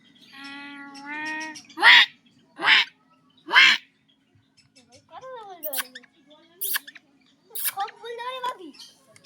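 A tame pet myna bird imitates human crying with a string of wailing, harmonic calls and sharp squawks, loud and close, with short pauses between bursts.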